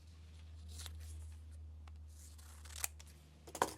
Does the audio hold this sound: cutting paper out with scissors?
yes